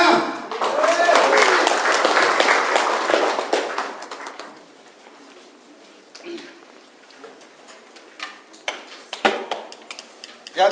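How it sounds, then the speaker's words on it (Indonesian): An audience applauds after a speech at a business product launch event, a dense burst of clapping that swells for about four seconds and then tapers into scattered claps, with voices speaking over the tail. "tepuk tangan sekali lagi buat Bapak Agus"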